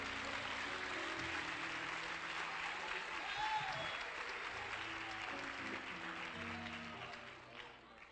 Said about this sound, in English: somebody ought to give God a hand clap